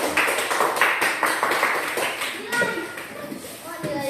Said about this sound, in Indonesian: Tepuk tangan, bagus kamu.